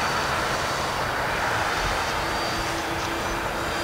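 An E-flite Twin Timber RC airplane flies overhead with a steady, droning twin-motor hum and a faint whine, moderately loud and continuous throughout with no talking.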